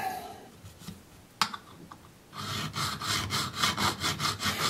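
Quiet scraping and a couple of taps, then steady rhythmic back-and-forth rasping strokes of sanding guitar frets during fret levelling, close up, with no talking.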